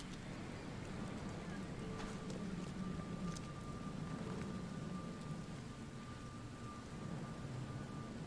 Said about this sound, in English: Back out into the rain.